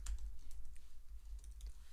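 Quiet, close tapping of keys on a computer keyboard, a short burst of light irregular clicks with no talking.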